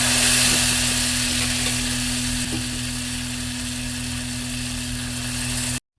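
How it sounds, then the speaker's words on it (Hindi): Spices crackle and sizzle loudly in hot oil for tempering, a dense steady hiss with a low hum underneath, cutting off abruptly at the end. "ये जो तड़के की आवाज़ होती है ना छन वाली"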